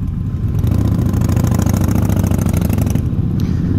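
A motorcycle engine runs steadily at a low, even idle in a Distinguished Gentleman's Ride group on the streets of Washington, D.C., close and continuous with a faint clatter, with no talk over it.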